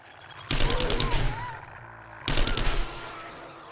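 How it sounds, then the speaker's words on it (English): An SMG fires in 7 Days to Die (console version), with two loud, rapid bursts of automatic gunfire, the first longer and the second shorter, separated by a brief lull. "This is why I like the SMG so much. Rapid fire."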